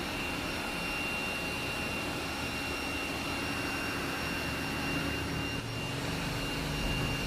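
A robot vacuum cleaner hums and whirs continuously indoors as it cleans on its own, a steady close motor drone with a slight shift near the end.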